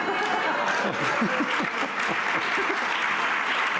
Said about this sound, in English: my caucus and cabinet are clapping vigorously